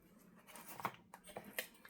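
Scissors cutting through a Reader's Digest cover, a few short crisp snips and scraping paper sounds in irregular rhythm, close and quiet with no talk.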